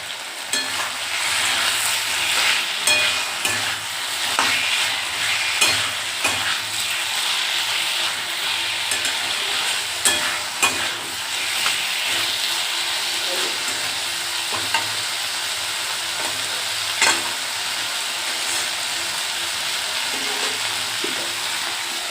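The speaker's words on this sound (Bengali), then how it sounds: "এখন ঢেকে ঢেকে অল্প কষাবো, আলুগুলো সিদ্ধ হয়ে যাবে, মশলাটাও ভালো করে কষানো হয়ে যাবে।" Potatoes and spices sautéing in a pan, a dense continuous sizzle up close with frequent scraping and clinking of the stirring utensil, no voices.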